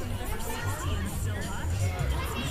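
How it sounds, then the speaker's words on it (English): Spectators cheer and chatter at a Vernon PCF race, a steady crowd hubbub with scattered shouts and voices mixed in throughout. "That cheering, you guys, makes the smile bigger"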